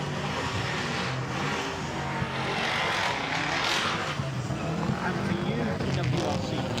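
Ferrari rally car on a forest rally stage: a steady, loud engine roar holds throughout with no clear gaps, and a commentator's voice runs underneath.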